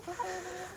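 Ornamental hens give a few soft clucks in under a second, close but quiet, with no talking.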